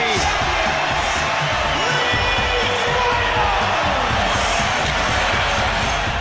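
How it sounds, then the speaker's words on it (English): Large stadium crowd at a rugby league match roaring and cheering continuously as the trophy is lifted, a dense sustained wall of noise with shouts and whoops throughout. "Listen to the crowd as Sinfield lift that trophy"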